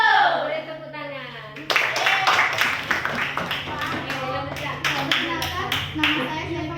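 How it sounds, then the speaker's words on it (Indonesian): Children in a school class clap together in a burst of loud, rapid, uneven hand claps that continues steadily for several seconds right after a child's spoken greeting. "Boleh tepuk tangan."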